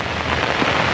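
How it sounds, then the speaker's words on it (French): Heavy rain pouring down hard in a steady, dense roar with wind picking up, close and loud throughout, no voices. "c'est le déluge. Il pleut énormément."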